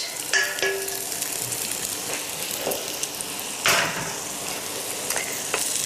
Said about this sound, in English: Stir gently around the edges.